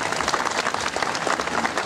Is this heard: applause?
yes